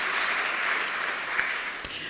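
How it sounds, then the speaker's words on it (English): Audience at a university Three Minute Thesis finals welcome gives a steady round of applause, a dense wash of clapping that holds evenly, with a couple of sharper claps standing out near the end. "yes, round of applause"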